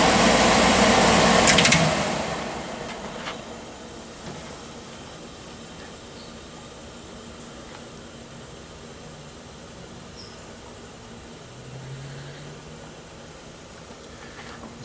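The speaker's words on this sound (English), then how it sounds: "See that blower spinning down a little bit." A vintage 1976 Fedders 11,000 BTU window air conditioner's blower winds down, a steady broadband whoosh that drops in level after the first two seconds and then settles into a low, even hum.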